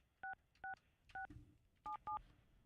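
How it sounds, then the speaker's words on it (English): Touch-tone phone dialing a number: five crisp DTMF beeps, two evenly spaced, then a third, a short pause, and a quick final pair, clear and alone over faint room hiss. "we'll call the Freaky Tiki Surf Shop or Surf Shack"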